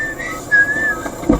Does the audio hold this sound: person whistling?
yes